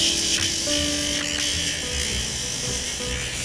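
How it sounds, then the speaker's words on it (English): An electric nail grinder files down a dog's nails, a steady close high-pitched buzzing whir with slight pitch shifts as it presses and lifts, without talking. "It is possible to just grind down the nails if you're really too afraid to cut."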